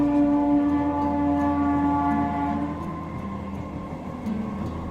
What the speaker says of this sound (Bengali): দেখুন দূরে ট্রেন যাচ্ছে